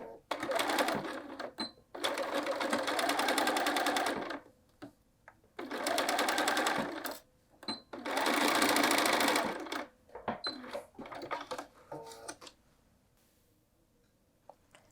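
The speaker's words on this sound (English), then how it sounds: "I am back tacking." A sewing machine stitches and back tacks a welt pocket seam in several loud, fast bursts separated by pauses, ending with a few short clicks and quiet handling.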